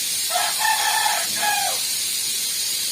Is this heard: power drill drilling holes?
no